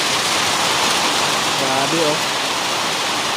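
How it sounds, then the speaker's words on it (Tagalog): Heavy rain pours down in a steady, loud roar across the whole stretch, broadband and unbroken, with a brief spoken exclamation from a person partway through. "Sobrang lakas ng ulan."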